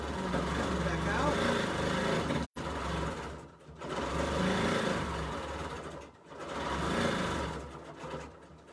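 A sewing machine stitching hearts onto a quilt: a steady, fast mechanical whirr that runs continuously with a couple of brief stops and restarts, while someone talks over it.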